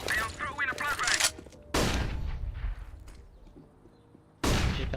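Video-game gunfire rattles in dense bursts, with a loud volley at the start, another mid-clip and a sharp one near the end, while a voice talks over the opening shots.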